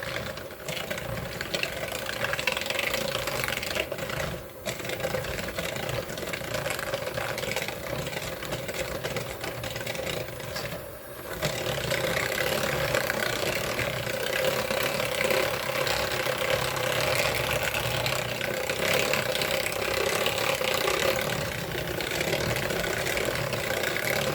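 An electric mixer creams butter and sugar for vanilla wafer dough, giving a loud, continuous motor whir that dips briefly twice.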